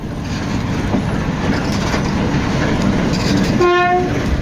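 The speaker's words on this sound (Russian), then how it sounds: "Мы услышали, как на станцию прибывает поезд с вахтовиками." A train carrying shift workers rumbles into a station in a steady low roar, then a loud horn blast sounds near the end, clear and close.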